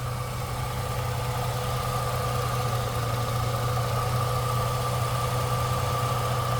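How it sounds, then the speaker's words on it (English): A 2004 Jeep Liberty engine idles steadily with no speech, a smooth continuous mid-pitched hum and faint mechanical whine holding level throughout at close range. "Listen to this motor."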